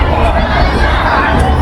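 Dense crowd noise on a busy pedestrian shopping street, East Nanjing Road in Shanghai, with a steady wash of many voices, shouts and babble filling the short stretch loudly and continuously.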